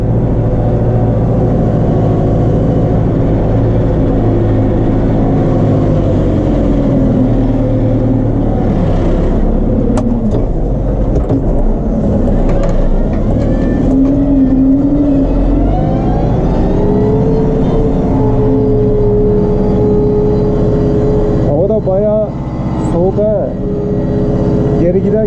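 A loud, steady Case JX110 tractor engine drones throughout while plowing a wheat field, with someone talking over it; the motor hum stays constant with slight shifts in pitch.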